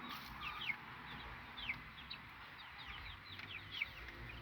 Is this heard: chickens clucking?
yes